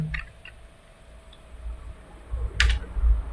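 A few sparse computer keyboard keystrokes entering a short AutoCAD command, soft close clicks with a firmer key press near the end, no talk.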